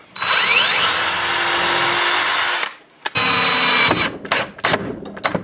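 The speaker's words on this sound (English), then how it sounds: "I'll drill a hole through here" Power drill boring a hole for a long screw while mounting a Port-a-Band bandsaw for knife making: a loud, steady whine for several seconds, then short bursts of drilling with brief stops.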